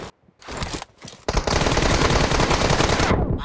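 Automatic gunfire in PUBG Mobile: two short bursts, then a loud sustained stream of rapid shots lasting nearly two seconds before cutting off, close and harsh with no talking.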